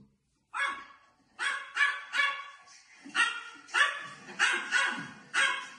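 A dog barks repeatedly in close, loud bursts, a steady series of sharp barks with brief pauses, heard alone in an indoor apartment setting.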